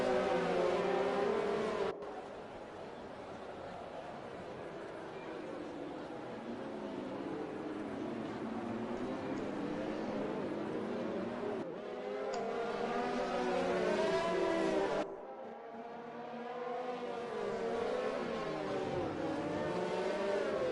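Race cars circle the track in the Wheel2WheelRacing league's Canada round of a racing game, engines whining and shifting as they rise and fall in pitch, cutting between camera views with sudden changes in tone.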